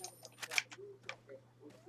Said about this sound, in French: là, je recharge mon fusil à pompe